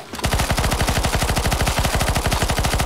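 Rapid automatic gunfire in the shooter game CS:GO on a zombie escape map, a loud, steady stream of closely spaced shots continuing without pause.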